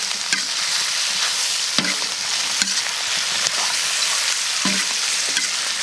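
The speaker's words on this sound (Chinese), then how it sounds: "那这个炒一下之后呢，再下入这个鸡块" Chicken pieces and pork intestines are stir-fried together in a wok, a constant loud sizzle punctuated by repeated scraping and clanking strokes of the spatula at an irregular rhythm, with no talking.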